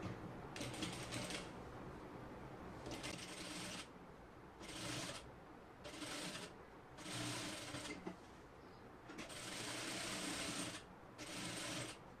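Home sewing machine attaching sleeves to a simple dress, running in short bursts of rapid stitching separated by brief pauses, close and fairly quiet.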